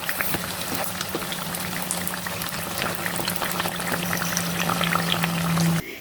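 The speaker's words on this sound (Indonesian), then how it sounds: "Goreng martabak tahunya dalam minyak panas, api sedang, cenderung kecil ya teman-teman." Tofu martabak frying in hot oil over a medium-low flame, a steady close sizzle and crackle with a faint continuous hum underneath, no speech.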